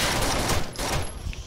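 Pistol gunfire in Rainbow Six: Vegas, a dense, steady run of rapid shots with no pauses, filling the whole moment at close range.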